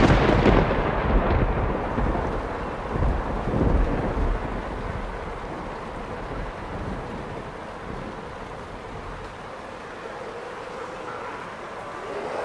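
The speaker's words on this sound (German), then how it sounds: "Das regnet ziemlich doll." Heavy rain pours steadily with rumbling low thunder, loudest in the first few seconds and then settling into a dense, continuous downpour with no voices.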